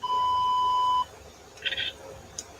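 A camera's self-timer gives one long, steady electronic tone, then a short cluster of higher chirping beeps and a final faint blip, heard clearly in a quiet room.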